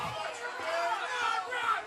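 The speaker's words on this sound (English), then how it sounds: "Crowd not happy with it." A soccer crowd in a stadium grumbles and murmurs in displeasure after a no-call, a steady, moderately distant wash of voices with a faint rise near the end.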